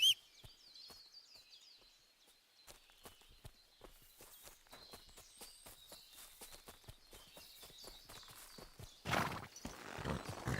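Horse hooves in the video game Kingdom Come: Deliverance 2 clip-clop in a steady walking rhythm, crisp and close, with faint ambient chirps behind and a brief louder rustle near the end.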